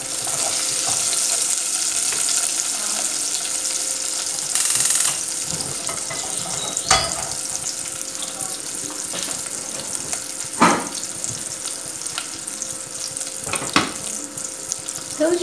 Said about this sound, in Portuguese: Vamos deixar dar uma boa fritadinha, né? Nesses temperinhos.